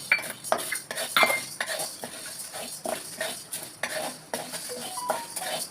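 A spoon stirs toor dal and chana dal dry-roasting in a pan, giving repeated close metallic scrapes and clinks in an uneven rhythm with no voices.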